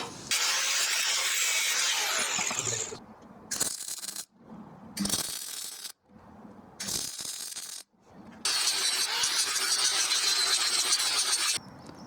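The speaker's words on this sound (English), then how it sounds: "cut two pieces of this thick steel and then weld them in perpendicular to the base plate" Thick steel is cut in several bursts separated by short pauses, with a harsh, grinding, high-pitched sound from near the workpiece, longest at the start and end.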